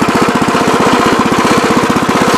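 A Terramite compact tractor's engine chugs steadily in low gear, a loud, close, rhythmic low thumping with rapid regular pulses and no pauses or speech.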